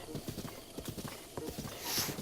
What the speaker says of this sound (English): it's another pure blue horse.